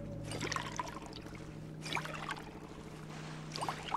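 Water trickling and pouring in Fallout 4 Survival Mode, a steady liquid fill with light splashy bursts over a constant low game hum, no speech.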